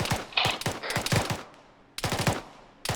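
Steady bursts of automatic gunfire in the military shooter game Arma 3, rapid cracks in two clustered volleys with a brief pause between, loud and close.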